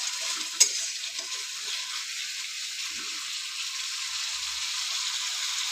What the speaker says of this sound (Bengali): খুব ভালোভাবে নেড়ে চেড়ে নিতে হবে। এখনো ভাজা হয় নাই